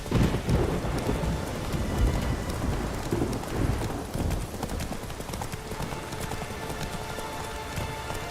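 Roach the horse gallops in The Witcher 3, a rapid clip-clop of hooves amid loud rain and rumbling thunder from a stormy in-game setting.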